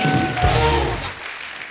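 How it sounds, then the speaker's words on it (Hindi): Studio audience applause on the Kapil Sharma Show, a dense burst of clapping that swells and then fades over a couple of seconds. "वो कियारा, दिलजीत पाजी बहुत बहुत स्वागत है, जोरदार तालियां हो जाए"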